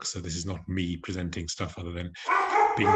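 A dog barks in the background during an online medical lecture from London, several yapping barks mixed in with a man's ongoing speech, with the last bark louder near the end.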